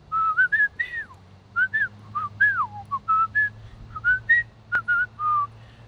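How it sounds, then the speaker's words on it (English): A person whistles a lively melody alone, a string of short rising and falling phrases with brief gaps, close and clear over a faint low hum. "I could whistle a lot,"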